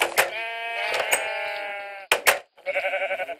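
Sheep bleating in Minecraft, the blocky game's harmonic baa calls coming close and loud, one long bleat followed by a shorter, wavering one, with a few clicks and thumps of gameplay between them.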